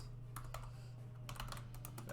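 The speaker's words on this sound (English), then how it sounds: "what am I typing in here?" Keys clatter on a computer keyboard in uneven bursts of clicks, close and fairly quiet over a steady low hum, with no talking.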